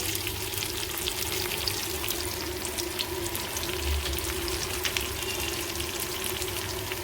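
Garlic paste frying in a pan gives a constant, fairly quiet hiss and crackle, even and unbroken from start to finish with no talking.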